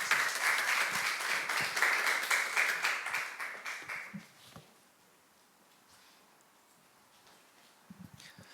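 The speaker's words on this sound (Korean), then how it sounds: "박수로 모시죠." Church congregation applauding to welcome a pastor to the pulpit at a Thursday praise service, dense steady clapping that fades out after about four seconds, leaving quiet room tone with a few faint stray sounds.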